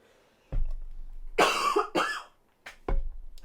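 Several close, harsh coughs come in separate bursts with brief quiet gaps between them, one sounding like a throaty hack.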